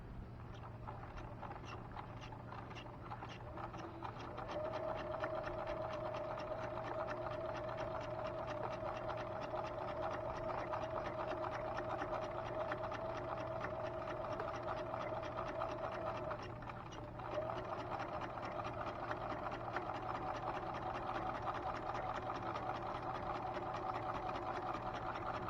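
A sewing machine runs a 3/8 inch seam with a faint, steady mechanical hum and light rapid needle ticking, quiet and continuous with a brief pause partway through, no speech.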